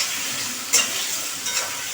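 Prawn fritter curry sizzles and fries in a pan while being stirred, a steady bright hiss with a sharper scrape or spatter burst partway through, no voices.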